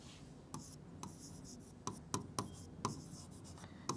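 Someone writes out a triangle geometry proof for a class 9 maths lesson, heard as sharp, quiet taps and short scratching strokes in an irregular rhythm against a faint, steady background hum, with no talking.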